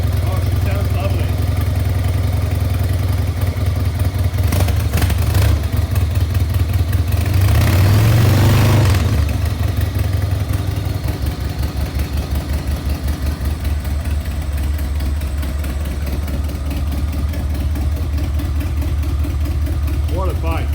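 A cold Harley-Davidson Sportster hardtail motorcycle idles with a deep, throaty, steady rumble, loud and close throughout, briefly revved around the middle, while people talk over it.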